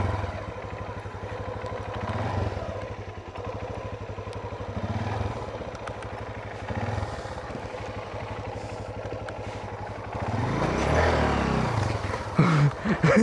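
A motorcycle engine runs steadily up close, its throaty rumble rising as it revs harder near the end, with some rattling.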